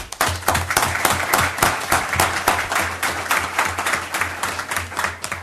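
Applause at a city council meeting honoring a school sports team, a steady round of clapping from a room full of people, moderately loud and sustained throughout.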